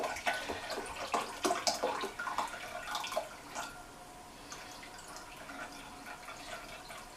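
White distilled vinegar pours into pumpkin and medlar chutney, a close splashing and trickling stream for the first few seconds that then fades to a faint liquid dribble.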